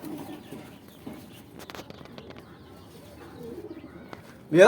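Pigeons at a village pigeon market in Gazipur near Dhaka give soft, low, repeated cooing with scattered rustles close by, then a sudden loud burst of sound at the very end.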